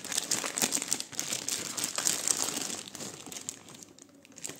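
Polythene packaging around a Butterfly vegetable chopper crinkles and crackles close by in steady handling bursts that taper off, with no talking.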